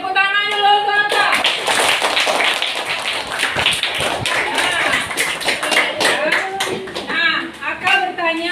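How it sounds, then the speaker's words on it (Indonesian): Schoolchildren clap together in a primary school classroom, a dense patter of hand taps that starts after a brief voice and runs for several seconds, with children's voices mixed in and an adult speaking near the end. "Tepuk tangan dulu untuk Aka."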